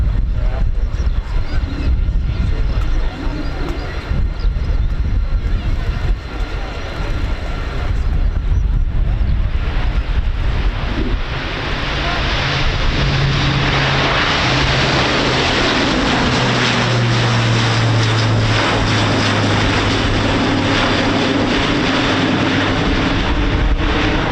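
Luftwaffe Airbus A400M turboprop transport passing at the RIAT airshow at RAF Fairford, a loud, broad propeller roar swelling over about twenty seconds with a low droning hum and rising pitch as it nears.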